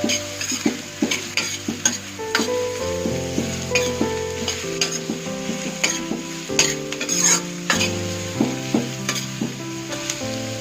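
Green onions are stirred in a sizzling frying pan for a vegetable Manchurian dish, with a steady fry hiss and repeated rhythmic scrapes and taps of the spoon against the pan, close and loud.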